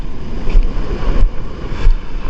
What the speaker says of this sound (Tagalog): Medyo malalaki-laki ang alon.